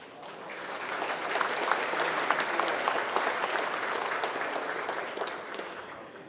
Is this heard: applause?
yes